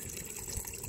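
Water poured into a pot of fish curry made with ara fish, with tamarind water added, a steady close gushing pour that runs without a break through the short moment.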